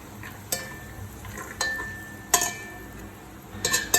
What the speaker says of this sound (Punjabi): ਹੁਣ ਆਪਾਂ ਇਹਦੇ ਵਿੱਚ ਬੜੀਆਂ ਪਾ ਕੇ ਭੁੰਨ ਲਵਾਂਗੇ